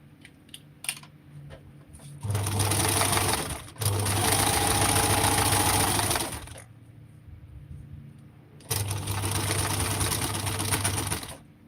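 A sewing machine stitches down a folded fabric seam on a garment top, running in steady mechanical bursts of roughly two to four seconds with short pauses between them, close and clear with no talking.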